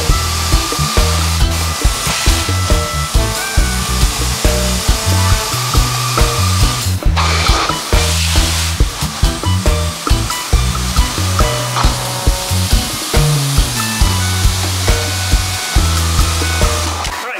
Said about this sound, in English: So I started pre-spraying this area and it started disappearing.